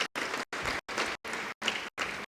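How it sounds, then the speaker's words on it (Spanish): A church congregation claps for the Lord in loud, evenly spaced bursts, seven rhythmic rounds of applause separated by short silences, with no talk between them. "Démosle fuertes palmas al Señor"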